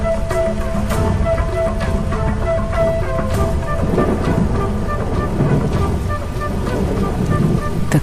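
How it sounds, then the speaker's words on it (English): Heavy rain pours down over an open plain, a dense, steady roar that fills the whole clip at constant loudness, with faint sustained tones running beneath it. "The cool downpour provides long-awaited relief from the heat"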